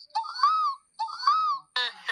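A person imitates a peacock call with three loud, wailing, nasal cries, the first two rising and drawn out, the last shorter and harsher, voiced close and alone.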